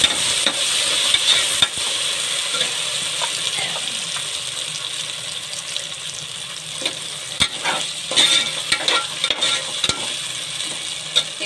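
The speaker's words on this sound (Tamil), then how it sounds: "இதில் நம்ம அரைச்ச மசாலா போட்டு வதக்கணும்." Ground masala paste sizzles and fries in a pan for chicken dum biryani, a steady dense crackle with occasional scraping stirs and clicks, fairly close and with no talking.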